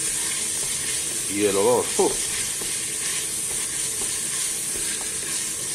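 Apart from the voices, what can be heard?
sofrito of garlic, onion and pepper frying in pan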